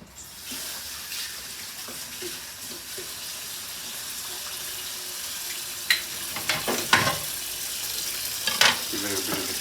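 Tap water runs steadily into a sink while pork ribs are washed, a soft continuous hiss with sharper splashes and clatters toward the end.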